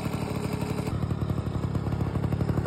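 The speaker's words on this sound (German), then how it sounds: "dass ich den Motor starten kann" A Simson SR50 moped engine fires up and settles into a loud, close, rapid two-stroke putter with a steady clattering rhythm, with no talk.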